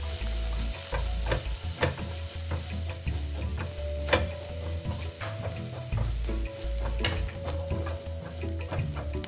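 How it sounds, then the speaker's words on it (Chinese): Dried shrimp, soaked and drained, stir-frying in hot oil with golden fried scallions and garlic, giving a steady loud sizzle with scraping spatula strokes and occasional clatters, no talking. "再将泡软后的虾米沥干水分加入一起炒香。"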